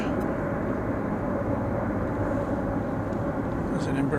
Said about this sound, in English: There's an Embraer 175.